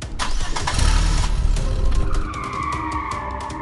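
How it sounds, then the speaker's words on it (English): A truck engine cranks and catches, then revs hard as if floored, a loud close roar with a rising whine that eases to a steadier drone. "He got into the truck, started the ignition,"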